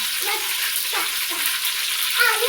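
Potatoes sizzle in hot oil with garlic, a steady close hiss of frying with faint stirring scrapes, no talk.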